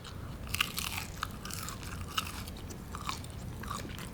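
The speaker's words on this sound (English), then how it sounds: "Listen to the crunch." Loud, close crunching bites and chewing of crispy breaded fast-food onion rings, several sharp crackles over a few seconds, no talking.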